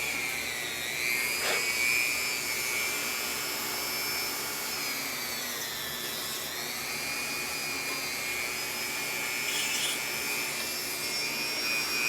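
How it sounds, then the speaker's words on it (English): A Dremel rotary tool works over a Selmer Reference 54 saxophone, giving a steady, continuous high-pitched whine with a rough rubbing texture that holds for the whole stretch, close and fairly loud with no talking. "A Dremel is your friend."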